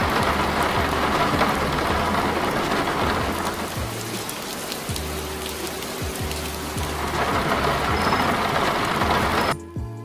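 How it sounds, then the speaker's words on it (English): Rain in the video game Greenville, heard from beneath a building or inside a car: a dense, steady hiss of rainfall with muffled low thumps of drops on the surface overhead, continuous and fairly loud until it cuts off. "rain sounds much different when you go underneath a building or into a car"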